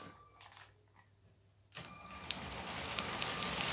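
Two motorised Lego train locomotives start up together on a track, a faint whir at first that swells into a steady, louder electric motor drone with small clicks and rattles as they run.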